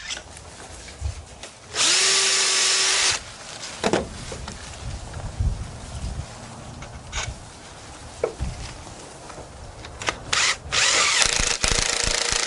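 A power drill bores into a deck board through a Kreg Deck Jig, with two loud, sustained whirring bursts close by, separated by quieter handling, scraping and knocks.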